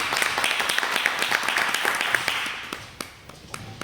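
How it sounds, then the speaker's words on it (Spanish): Audience applause for a speaker at a talk by a forensic expert on gender violence, with dense clapping that fills most of the stretch and then thins out toward the end. "Un aplauso le damos, ¿no?"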